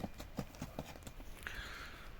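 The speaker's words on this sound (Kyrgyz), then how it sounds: "Туугандар, мына Жанарбай экебиздин акыркы 3-чү Европа жылкысы." European-breed horses led around a stable yard near Bishkek, hooves clip-clopping in an uneven rhythm on hard ground, fairly faint with background noise.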